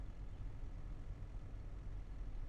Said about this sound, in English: Go ahead and hop back into the tractor there.